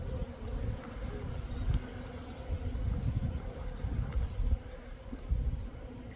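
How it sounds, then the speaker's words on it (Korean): Strong, warm early-spring wind gusts beside beehives in February, a rumbling, buffeting roar that swells and eases, with the hum of bees mixed in and no speech. "바람이 심하게 불긴 하는데"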